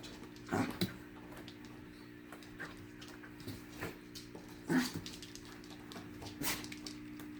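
Four small puppies yip and whimper faintly at intervals over a steady low hum, with a few louder squeaky bursts among softer scratchy noises.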